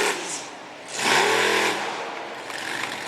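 A monster truck's big AMC Ford Performance engine revs hard in a loud mid-range surge lasting about half a second before easing back, heard at a freestyle event in Fredericksburg, Virginia.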